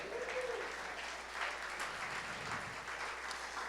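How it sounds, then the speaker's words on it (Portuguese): Church congregation applauding in a steady, moderate wash of clapping that fills the whole stretch at a middling distance, with no clear talk over it. "dê um aplauso a Jesus"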